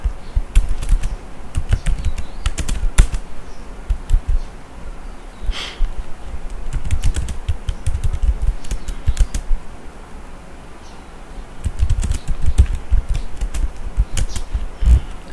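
Computer keyboard typing Java code, bursts of quick clicking keystrokes with brief pauses between runs, close and fairly loud with no talking.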